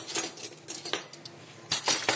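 Metal cutlery and dishes clinking while being washed by hand, a few quick light chinks and clatters spaced over two seconds, fairly faint and close.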